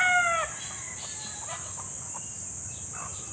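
A white San Pedro rooster crows once at the start in a rural Philippine yard, followed by faint scattered clucks and bird calls over a steady insect hum.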